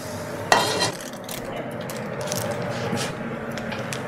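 Wild mushrooms sweating in a warm skillet, a soft steady sizzle with a sharp clatter of utensil at the start followed by gentle stirring and scraping, close and moderately quiet.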